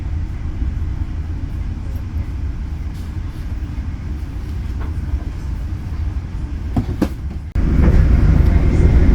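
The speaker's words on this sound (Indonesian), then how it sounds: "Kereta api Majapahit sudah diberangkatkan kembali dari stasiun Haur Gelis" The Majapahit economy train, heard from inside, rumbles steadily as it departs Haurgeulis station, with a loud, continuous low roar, some faint clicks, and the noise swelling louder near the end.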